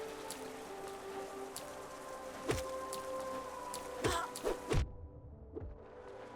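Rain falls steadily in the City of Tears in the game Hollow Knight, a soft hiss with scattered drop taps and a low tonal hum beneath, cut off abruptly near the end. No one speaks.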